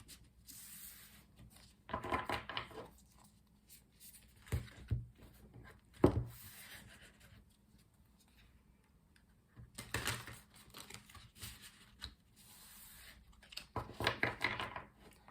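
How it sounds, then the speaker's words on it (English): Tarot cards are shuffled by hand in several short bursts of soft riffling and rubbing, quiet and close, separated by near-silent gaps. "Let's continue by doing some shuffling so we can pull 6 tarot cards for the month."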